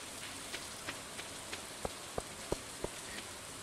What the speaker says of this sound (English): Alright, nice rainy day.